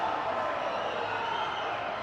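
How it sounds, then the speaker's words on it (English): A crowd at a swimming race roars in a steady, sustained wash of cheering, loud and unbroken for the whole moment, with no distinct voices rising above it. "The crowd is going nuts here."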